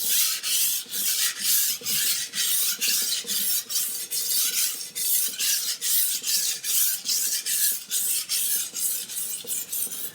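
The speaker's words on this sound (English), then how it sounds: "And I'm using the entire stone as I sharpen." A kitchen knife is sharpened on a whetstone, the blade drawn along the full length of the stone in a steady run of close, repeated rasping strokes, each scrape rising and fading in an even rhythm with no voices.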